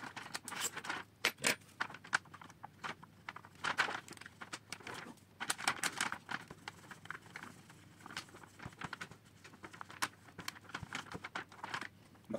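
DFR laminate film being cut for covering a Nano Drak model fuselage, a close, crinkly run of snips, rustles and crackles in irregular bursts, fairly quiet with no talk.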